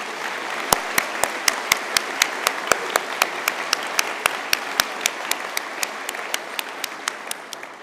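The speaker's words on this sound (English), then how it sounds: "you might join me in giving them a round of applause" A university conferring ceremony audience gives a round of applause, with a close, crisp steady clapping beat over a broad crowd wash that slowly tapers off.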